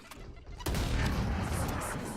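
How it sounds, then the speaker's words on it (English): A grenade explodes in a competitive shooter video game, a sudden loud blast that cuts in partway through and leaves a dense, rumbling roar of debris and gunfire-like noise sustained to the end. "Grenade!"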